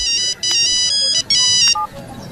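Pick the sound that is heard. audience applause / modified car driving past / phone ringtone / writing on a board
phone ringtone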